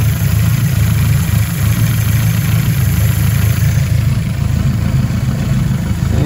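A carbureted car engine idles steadily at around 800 to 900 rpm with a low, constant rumble and hum, no talking, holding an even level throughout.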